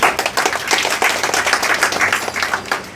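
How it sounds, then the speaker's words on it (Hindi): An audience at a Bahujan Samaj Party political rally claps in welcome, a dense, steady burst of hand claps that stays loud and even for the full few seconds. "आपने मेरी बात को तालियां बजा करके स्वागत किया और समर्थन देने का काम किया"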